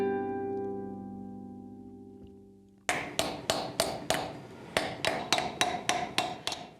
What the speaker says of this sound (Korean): 수천 수만 번의 망치질 끝에 완성되는 작업.